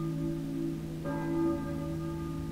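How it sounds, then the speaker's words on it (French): A church bell tolls in the video game Silent Hill, a low sustained metallic ring with a second strike blooming over the lingering hum, faint and without talk. "Serait-ce une cloche d'église?"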